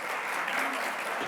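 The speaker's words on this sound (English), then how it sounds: "Bonne main d'applaudissement." An audience applauds at a national gathering on unmarked burials in Montreal, a dense, steady wash of many hands clapping together, sustained and fairly loud throughout.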